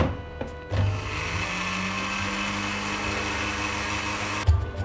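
A blender whirs through a beef haleem mixture with spices, a continuous droning motor running steadily for about four seconds between brief knocks as it starts and stops.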